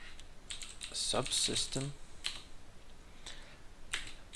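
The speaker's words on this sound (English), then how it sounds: "So what we're gonna do is we're gonna type" Rapid, irregular key clicks from typing on a computer keyboard while configuring SFTP on an Ubuntu 16 LTS server, close and fairly crisp, with a brief spoken word partway through.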